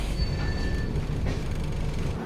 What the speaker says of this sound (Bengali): ট্রেন আমাদের এসে পৌঁছালো লালকুয়ান জংশন।